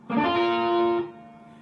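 A single distorted electric guitar chord rings out strongly for about a second, then fades into a quieter sustain.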